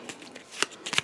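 Cards being shuffled for a Lord of the Rings tabletop board game: a quick run of soft papery riffles with two sharper bursts near the end, close and fairly quiet, no voices.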